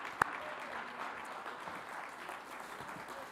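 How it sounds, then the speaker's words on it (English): Audience applause at a finance and development event, a steady wash of clapping from a crowd that fills the whole stretch at moderate level, with one sharp clap standing out near the start. "Please give them an applause."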